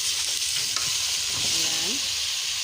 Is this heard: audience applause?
no